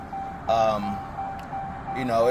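A 2016 Dodge Ram gives a steady electronic warning chime, a thin sustained tone running underneath a man's nearby speech for about two seconds.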